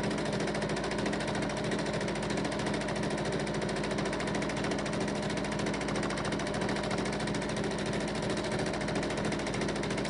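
A sewing machine runs continuously for machine thread painting and embellishing, making a steady, even mechanical whir with fast stitching pulses and no pauses, driven by a non-Janome pedal.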